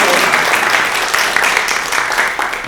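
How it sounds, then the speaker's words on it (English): A live crowd at an improv Dungeons & Dragons show applauds loudly, a thick, continuous wash of clapping with scattered cheers that fades slightly toward the end. "everyone give a round of applause for your party"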